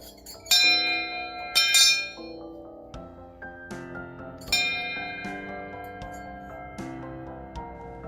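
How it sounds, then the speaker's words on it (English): A heavy antique brass bell, missing its brass plate, is struck several times in an irregular sequence, each strike ringing bright and metallic before decaying slowly, the hits overlapping at close range with no talking. "this heavy brass bell that I got from the antique store"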